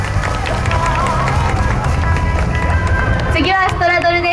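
Dense, steady crowd applause from the audience at a high school cheerleading performance at an outdoor port festival, loud and continuous, with a voice and tonal sounds rising over it near the end.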